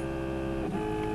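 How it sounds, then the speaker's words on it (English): Steady mechanical whirring and buzzing of four pulse-driven stepper motors moving an icing head, with a layered tonal hum that shifts pitch briefly midway, loud and continuous. "the pulses that drive the 4 motors to move the icing head up and down and sideways and backwards."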